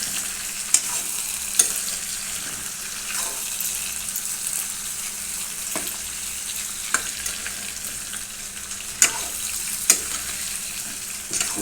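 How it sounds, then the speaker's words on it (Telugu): Stuffed brinjal curry made with large eggplants stirred in a pan over steady, loud sizzling, with occasional sharp scrapes and knocks of the spoon against the metal at irregular intervals. "ఇలా కలిపి కొంచెం మగ్గనియాలండి."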